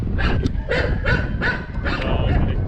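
A dog barks several times in a steady rhythm, close by, over a constant background hum, at a place with goats, kittens and many dogs in Mindelo, Cabo Verde.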